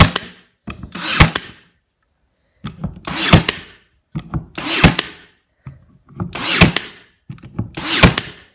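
Loud wooden nailing thuds arrive in short clusters, separated by brief pauses, close and forceful, as panels are nailed onto a wooden crate.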